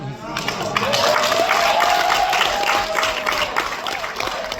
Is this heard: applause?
yes